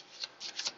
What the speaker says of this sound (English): then I'm going to do shuffle here